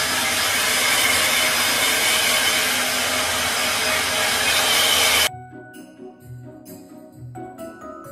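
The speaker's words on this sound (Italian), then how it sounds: "ora vado a prendere il phon e asciugare i capelli" A hair dryer blows loudly and steadily at close range for about five seconds, drying freshly washed hair, then cuts off abruptly, leaving faint clicks and handling noises.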